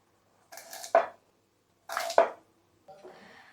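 A kitchen knife chops through pumpkin and onion on a cutting board, three separate bursts of cutting with crisp knocks against the board, close and clear with silence between.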